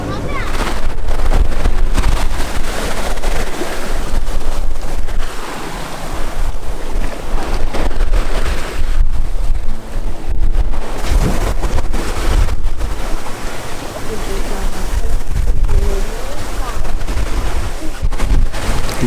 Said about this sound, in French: Bon ça y est, on s'est mis sous voile avec toujours un petit 15 nœuds de vent au près